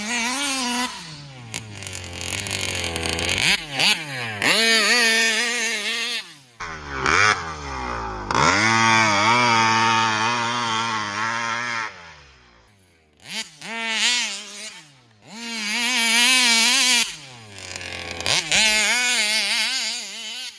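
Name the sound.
71cc Vesla moped engine at top speed, 27/49 gearing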